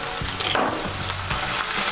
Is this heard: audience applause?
no